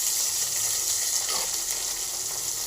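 Garlic, onion and curry leaves sizzle in a pan for a gourd curry, a steady hissing crackle that is fairly loud and continuous, with no talking.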